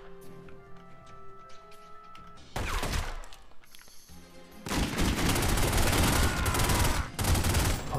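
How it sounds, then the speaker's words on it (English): Gunfire in The Godfather video game aimed at a couch, loud bursts of rapid shots in two long volleys, the second lasting several seconds, separated by quieter game ambience. "I'm shooting the couch."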